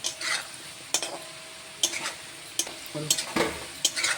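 Potatoes fry in a pan with a soft, low sizzle, punctuated by intermittent sharp scrapes and clinks of a utensil stirring against the pan.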